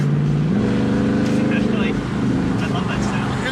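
A gas V8 engine in a 2018 Dodge Challenger revs up and holds a loud, rumbling drone throughout, close by, with people talking over it.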